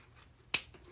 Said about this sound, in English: my scissors are getting super, super dull